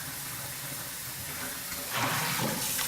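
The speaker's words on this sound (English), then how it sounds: "You can probably hear that water" Water runs from a kitchen sink tap in a steady hiss, fairly soft at first and then swelling louder as the flow strengthens near the end.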